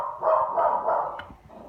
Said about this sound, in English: The dogs only bark when I'm trying to make you guys a video